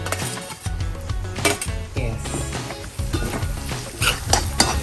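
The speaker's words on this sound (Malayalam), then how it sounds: "അതിലേക്ക് നമ്മൾ ടൊമാറ്റോ ഇടും. ഇനി ടൊമാറ്റോ ഒന്ന് വഴണ്ട് വരട്ടെ. കൂട്ടത്തിൽ പച്ചമുളക് ഇടും." Tomatoes and green chillies sautéing in a pan of onions for a Kerala prawn curry, with a steady sizzle under repeated spoon stirring and scraping and occasional clinks of metal against the pan, close and fairly loud throughout.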